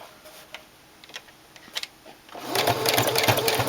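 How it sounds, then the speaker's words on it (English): A sewing machine stitches right along a fabric edge to attach binding, its needle whirring in a steady, close, loud run that starts after a couple of seconds of faint handling noises and light clicks. "you're going to stitch right on the edge"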